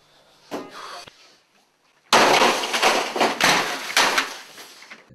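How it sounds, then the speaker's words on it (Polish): A brief knock, then a sudden loud crash of breaking and shattering glass, with several heavy smashing impacts following in quick succession from a two-handed sledgehammer. "zmiażdżył go młotem dwuręcznym"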